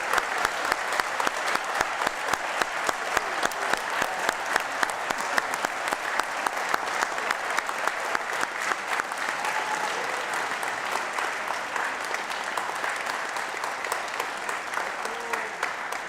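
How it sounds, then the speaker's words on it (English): Audience at a high school spring performing arts concert applauds the graduating seniors, a dense, steady clapping that carries on for about sixteen seconds with scattered sharper claps throughout. "let's give them a quick round of applause"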